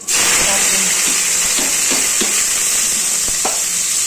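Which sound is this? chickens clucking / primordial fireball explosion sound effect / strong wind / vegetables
vegetables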